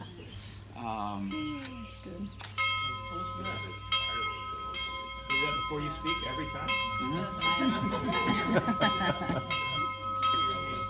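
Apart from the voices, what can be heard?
church bells ringing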